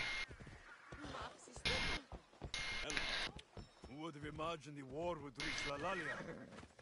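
A horse in Assassin's Creed Odyssey whinnies several times in a row, loud and close, with hoof clip-clop and a person talking over parts of it.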